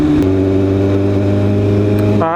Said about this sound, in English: Yamaha MT10, or FZ10, I don't know, but it's a 10, Yamaha 10